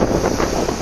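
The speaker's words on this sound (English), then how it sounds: "A waterfront in southern France is battered by waves and high winds" Strong wind gusts and crashing waves batter a waterfront in southern France during a powerful storm, a loud, continuous roar of buffeting wind over surging water with no voices.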